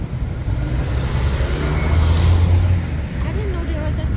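A train passes and slows near a station beside an outdoor St. Patrick's Day celebration at a beer brewery, its steady low rumble swelling and easing over crowd noise while people talk.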